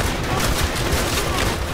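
Intense, continuous gunfire from Call of Duty: World at War, loud and dense with overlapping rapid bursts and no gaps.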